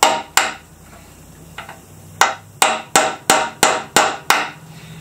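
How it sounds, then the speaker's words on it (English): A little hammer strikes a small punch against a barnwood frame, giving two isolated sharp taps followed by a quick series of about seven evenly spaced, loud, ringing blows, close up with no talking. "then I take a little hammer and a little punch"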